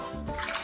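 Shower water running at home with a German Shepherd nearby, a steady close hiss of spray and splashing that fills the short moment, without voices.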